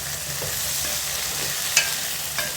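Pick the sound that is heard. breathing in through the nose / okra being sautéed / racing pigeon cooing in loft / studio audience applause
okra being sautéed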